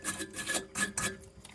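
Electrodes of an Ideal Logic boiler heat exchanger scrubbed clean in place, a close, quiet series of rasping rubbing strokes in short uneven bursts with brief pauses between them.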